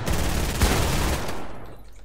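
Rapid gunfire in Fortnite Battle Royale, aimed at a wall, comes as a dense, fast burst of shots that tapers off toward the end, loud and close with no voices.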